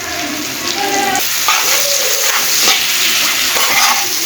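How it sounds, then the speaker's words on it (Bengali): Onions frying in a pan on a village kitchen stove, a steady broadband sizzle with occasional stirring scrapes, close and loud throughout with no talking. "তো এখন আমি পেঁয়াজটা লাল লাল করে ভেজে নিব।"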